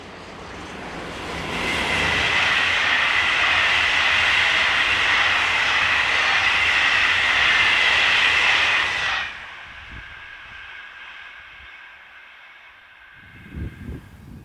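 Locomotive 26045 hauls a train speeding north from Toury on the Paris–Orléans line in France, a loud sustained roar and rumble as it passes close by, then it fades quickly to a quieter hum with faint distant noise.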